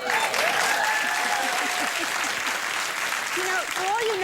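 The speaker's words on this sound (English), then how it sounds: "We're all applauding" Loud, sustained applause from a large talk-show studio audience fills the whole stretch, with a few faint voices and calls rising over the clapping.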